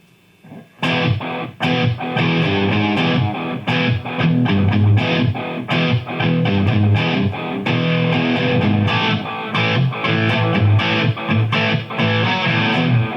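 A Gibson SG Standard plays through a Peavey 5150 amp with heavy distortion, loud chugging rhythmic chords with sharp, repeated palm-muted attacks and no voices.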